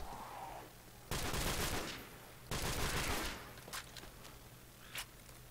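A Scorpion submachine gun in a video game fires in two long rapid bursts, loud and close, followed by a few short single cracks and light shuffling movement.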